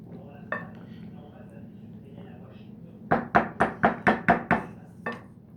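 A spoon stirs and scrapes through beef bourguignon with red wine, carrots, mushrooms and small lardons in a pot, giving a quick run of about eight sharp, evenly spaced clinks after a single earlier knock, with no talk over them.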